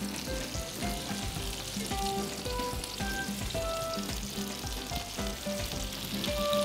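Chicken shashlik frying in a pan, a continuous loud sizzle with scraping and clattering as the pieces are stirred and flipped, and no talking.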